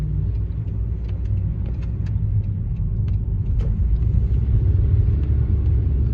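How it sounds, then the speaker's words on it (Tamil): A car on winter tyres climbs a snowy hill, giving a steady close rumble of engine and tyre noise with faint scattered ticks and no talking. "பாஸ்ல ஷியாக இருக்குல்ல, ஏறுதா வண்டி. டயர் போட்டுக்கனால ஏறுது."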